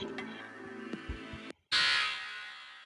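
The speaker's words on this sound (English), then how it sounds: "now the alarm starts, because the iceberg is spotted" A ship alarm sounds in a Roblox sinking-ship game as an iceberg is spotted: a steady electronic alarm tone, broken by a brief gap, then a bright, loud sustained blare resumes.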